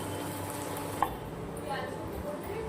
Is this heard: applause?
no